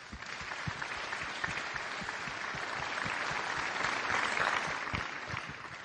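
An audience at a cultural opening ceremony claps steadily for several seconds, a continuous wash of many hands at moderate distance that swells slightly toward the end.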